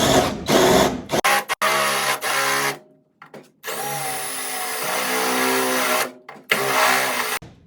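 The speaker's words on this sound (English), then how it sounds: "These DeWalt drill bits really cut in." A power drill with DeWalt bits whines in long, loud bursts, cutting out spot welds in the metal body of a 1969 Dodge Coronet, with brief pauses and short stops between runs.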